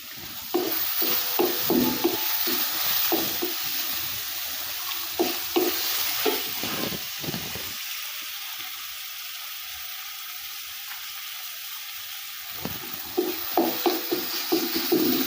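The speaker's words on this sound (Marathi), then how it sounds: "टोमॅटो थोडासा भाजला त्यातच आता ही बारीक केलेली कोथिंबीर थोडीशी टाकायची, तेलातच चांगली भाजून काढायची" Chopped coriander and tomato fry in oil over a wood-fired chulha, giving a steady sizzle broken by scraping stirs. The stirring stops for a few seconds midway and the sizzle carries on alone before the stirring resumes.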